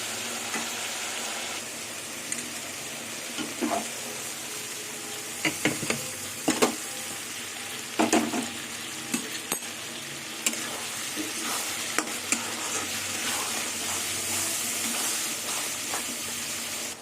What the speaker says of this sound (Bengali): এই চিংড়ি মাছটা আমি মশলার মধ্যে দিয়ে দেবো মশলার সাথে একবারে কষিয়ে নেবো